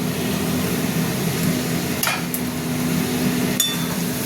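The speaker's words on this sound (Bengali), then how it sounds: "মশলাটা কিছুটা কষা হয়ে গেছে, সবজিগুলো ঢেলে দিলাম।" Vegetables (ridge gourd and pointed gourd) are tipped into spice paste frying in oil in a pan for a prawn curry and stirred, giving a steady sizzle under a faint hum, with a few sharp metallic clinks of the spoon against the pan.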